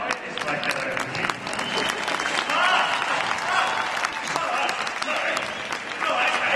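Audience at a horse show at the Royal Winter Fair in Toronto bursts into steady, moderately distant applause, with voices mixed in throughout.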